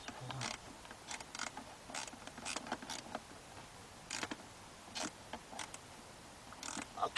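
A small fastener on a car's blend door actuator is tightened by hand, giving quiet, intermittent ratcheting clicks and creaks in short bursts, close up and faint.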